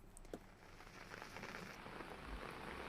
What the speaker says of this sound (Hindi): शहर में तेज हवा के साथ जमकर बारिश हुई